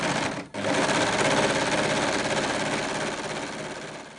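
A sewing machine runs steadily, stitching gathered ruffles onto a child's ruffle dress made from a Minikrea 33030 pattern. The motor whirs loud and continuous, with one brief pause near the start and no talking.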